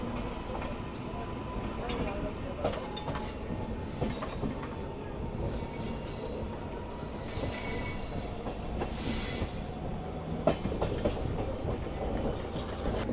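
An Indian passenger train on the Indore–Gwalior line rolls along the rails at night, heard from inside a general coach as a continuous rumble with metallic wheel squeals and occasional clanks.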